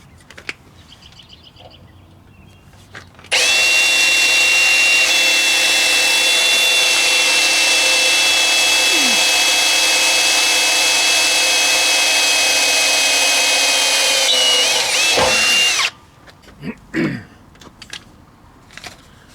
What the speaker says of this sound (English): First hole I will use small drill, maybe like a 5 millimeters.